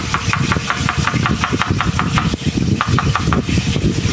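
Knife slicing through carrots and ginger on a board, a steady run of quick, crisp cuts close by, all alone with no talk.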